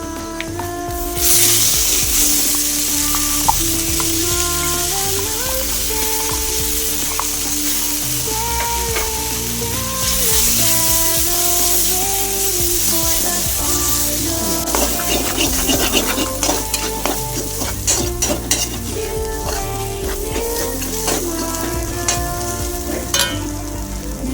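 Ginger and garlic frying in a pan for chicken curry, a steady loud sizzle with stirring clatter and scraping throughout, close by, with music playing over it and no talk.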